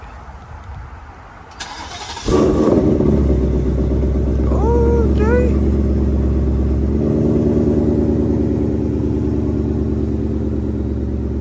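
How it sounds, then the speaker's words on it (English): After a brief spoken word, a car engine running on E85 fuel cranks, catches and settles into a loud, rough idle, with a rev that raises its pitch partway through. "Y'all ready to hear the start of the first E85?"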